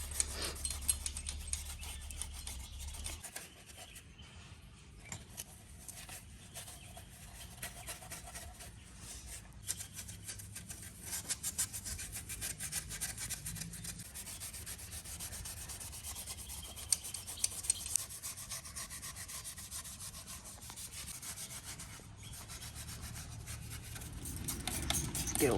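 Steel wool rubs continuously over the engine block mating surfaces where a sandwich plate fits on a Ford Barra engine. A close, steady rasping scrub carries on for a long stretch with small variations in pressure.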